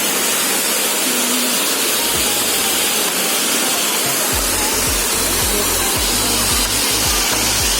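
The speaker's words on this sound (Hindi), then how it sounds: "ये वाटरफॉल है जो कि बहुत ब्यूटीफुल है। ये वाटरफॉल वहाँ से आता है ऊपर से।" Steady broadband rush of the Kesari waterfall in a village setting, water pouring down from above continuously throughout, with a few low thumps toward the end.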